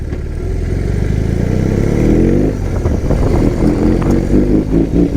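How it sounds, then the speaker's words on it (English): A BMW R18 First Edition motorcycle with its large boxer engine running close by, a loud, deep, throbbing idle that swells into revs and settles into a rumbling, pulsing beat. "This is a lovely motorcycle"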